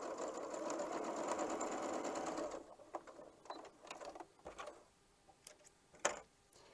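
A sewing machine stitches dark and light fabric pieces for a quilt block, a steady close whirring run of about two and a half seconds, followed by soft clicks and fabric handling.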